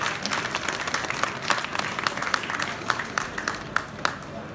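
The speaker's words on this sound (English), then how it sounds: "Round of applause, please." Audience applause at a London Build talk, a dense burst of many hands clapping with sharp individual claps standing out, steady and fairly loud throughout.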